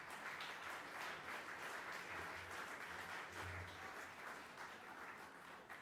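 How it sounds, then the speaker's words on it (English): Audience applause for an award winner at a red carpet awards event, soft and distant but sustained throughout, with faint low rumbles underneath. "A round of applause, please."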